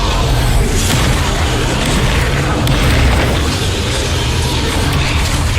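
Spell effects in the game Hogwarts Legacy, a dense continuous barrage of booms, bursts and crashes, loud and unbroken, with a voice shouting over the blasts.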